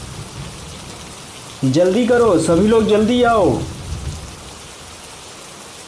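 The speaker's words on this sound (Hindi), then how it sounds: "और बारिश इतनी ज़्यादा हुई कि चारों तरफ पानी ही पानी भर गया।" Heavy rain pours in an animated story of a flooding village, a steady hiss throughout while a voice calls out urgently in the middle.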